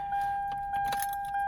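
Keys on a ring in the ignition of a 1998 Land Cruiser 100 jingle with brief metallic clinks, close and quiet, while an instrument cluster chime holds a steady tone.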